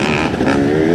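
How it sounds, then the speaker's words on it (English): Motocross dirt bikes, a mix of two-stroke and four-stroke machines, ride at the Fox Raceway track, giving a loud, close, buzzing engine drone that holds steady for a brief moment. "Got a good mix of bikes out here too."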